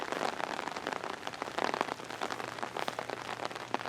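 Steady rain patters on a surface nearby, dense crackling drops with a constant hiss and no voices.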